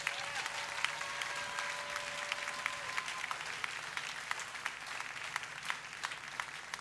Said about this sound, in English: I want us to give her another round of applause.